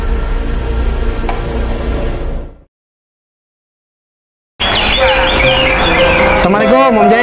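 A white-rumped shama sings loud and close in rapid, varied whistled phrases, then falls silent for about two seconds and resumes with bright, looping chirps.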